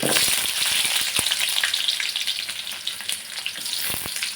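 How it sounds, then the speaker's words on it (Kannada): Garlic and onion fry in a hot pan with oil and curry leaves, giving a dense, loud, continuous sizzle with brief sharper crackles and pops throughout. "ನೆಕ್ಸ್ಟು ಬೆಳ್ಳುಳ್ಳಿ ನೆಕ್ಸ್ಟ್ ಈರುಳ್ಳಿ ಹಾಕಿ"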